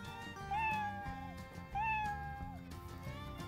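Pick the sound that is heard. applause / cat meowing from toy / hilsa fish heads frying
cat meowing from toy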